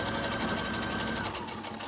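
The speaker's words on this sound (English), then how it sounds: "sew my pleats in this down" A sewing machine stitches pleats down on a fabric face mask, running steadily and close for the whole stretch without any talk.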